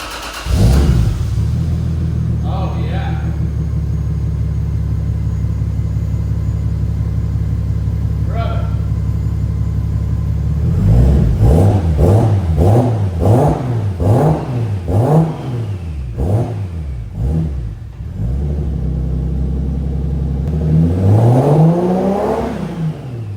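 A Nissan 300ZX with a swapped-in 2JZ-GTE engine and a drag pack, close up: a steady, throaty idle, then a run of repeated rev blips rising and falling before settling back to idle.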